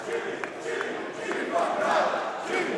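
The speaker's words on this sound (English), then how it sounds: "Crowd here supporting this tenacity of Jimmy Havoc." A wrestling crowd at a WCPW Loaded show cheers and shouts in a sustained, roaring swell during a Jimmy Havoc match, rising toward the middle.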